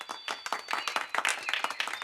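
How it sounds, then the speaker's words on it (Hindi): Cartoon clapping, a quick run of sharp, distinct hand claps in an uneven rhythm, fairly close and moderately loud, with no talk over it. "मेरे लिए तालियां बजाओ"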